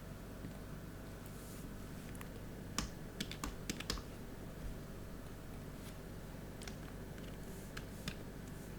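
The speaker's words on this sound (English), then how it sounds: "We can type manually or we can copy and paste it." Quiet typing on a computer keyboard while entering survey data for a channel model, a short burst of light, clicking keystrokes over a steady hiss, then a few scattered taps.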